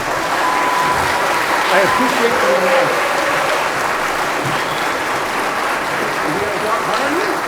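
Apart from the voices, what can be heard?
audience applause for candidates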